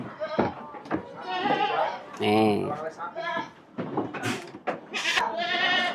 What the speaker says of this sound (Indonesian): ini kambing bur ini